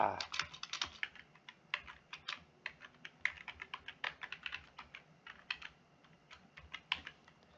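Quick, light keystrokes on a computer keyboard tap along in an irregular, continuous patter, close and fairly quiet, while someone enters homework details into an online class system.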